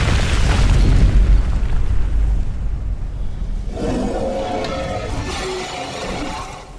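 A dragon breathing fire in Skyrim, a loud roaring blast of flame that rumbles heavily for several seconds, then shifts into a brighter crackling rush as it continues.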